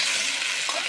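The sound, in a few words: stirring soya chilli paste with onion and capsicum in pan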